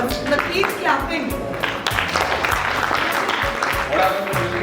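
An audience claps steadily at an anniversary celebration and awards event, a dense, continuous patter of many hands sustained throughout, with voices talking and cheering over it.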